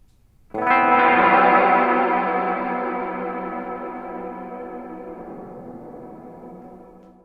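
A single sustained guitar chord through a Walrus Audio Lore pedal with feedback and mix turned up swells in and hangs with a thick chorused, echoing wash, slowly fading over several seconds.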